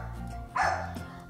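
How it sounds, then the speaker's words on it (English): A single dog bark rings out midway, moderately distant, over a low steady background hum. "I hear this barking dog."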